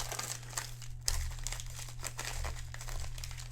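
A padded bubble mailer being handled and folded while packing a sports card for shipping, giving steady close crinkling and crackling with a few sharper rustles throughout and no talk.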